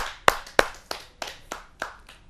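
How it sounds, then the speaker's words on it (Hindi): A few people clap in slow, sparse, separate claps to welcome a poet at a Hindi kavi sammelan, about seven distinct claps spread over two seconds, with no voices. "आइए स्वागत करते हैं उनका जोरदार तालियों से।"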